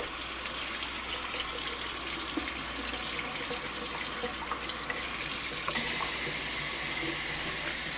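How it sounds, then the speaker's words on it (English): Cold tap water runs steadily into a kitchen sink, a close, continuous splashing hiss with a slight shift in flow near the end, no voices. "So I want to make sure the running water is cold."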